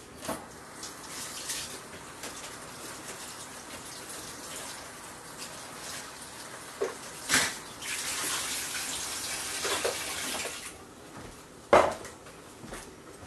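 Lettuce leaves rinsed under a running kitchen tap, a steady rush of water with splashing bursts and a couple of sharp knocks partway through, with no talking.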